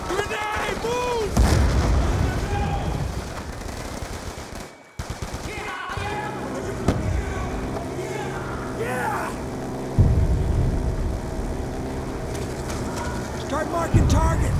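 Grenade blasts and gunfire rumble through a Call of Duty Black Ops 2 battle, a dense continuous din of booms and shots layered with shouting voices and radio chatter, loud and close throughout.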